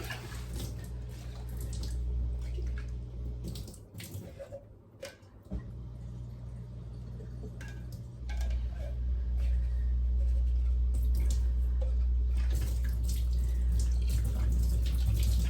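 Clean water runs and pours over sprouting seeds and beans, a low steady flow that pauses briefly midway and then returns louder and fuller, close by and with no talking.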